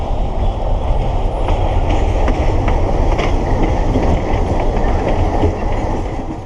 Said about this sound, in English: there's another train coming down the tracks, coming around the corner there.